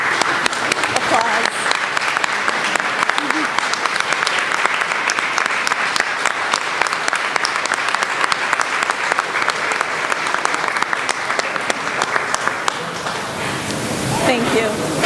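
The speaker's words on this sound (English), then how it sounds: "I'd just like everyone to stand, and so we can give you a proper applause." Sustained applause from a standing audience at a graduation ceremony, loud and dense for about fifteen seconds before tapering off at the end.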